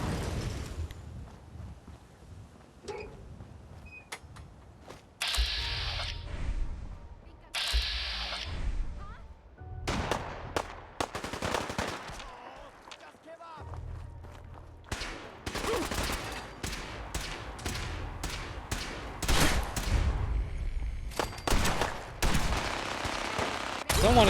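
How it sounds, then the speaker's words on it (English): Minigun firefight in Fallout 4: bursts of rapid automatic fire crackle in irregular volleys, some sustained and loud, others short and clipped, with mechanical clatter between them and quieter stretches of ambient game noise. "Someone got some miniguns, so I'm getting the fuck out of there. Sounds like a real firefight."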